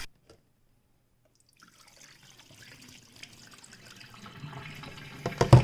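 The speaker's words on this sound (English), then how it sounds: "fill it up, mix it around, pour out the rice so it takes out the bleach and whatever dirt's in there" Plain rice is rinsed in water: a faint trickle starts after a short silence, then swishing and pouring of water grow steadily louder, ending in a few sharp splashes close by.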